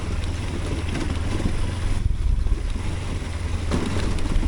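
A Kawasaki Versys X-300 motorcycle rolls along at low revs on an Oregon backcountry route, a steady low engine drone mixed with constant wind rush over the microphone, close and continuous with no speech.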